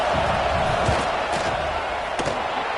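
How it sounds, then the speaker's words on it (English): Steady, dense roar of a football stadium crowd during a fourth-down field goal attempt, loud and continuous throughout with no gaps, swelling slightly in places as the fans try to rattle the kicker. "This crowd trying to do its part to get inside the kicker's head"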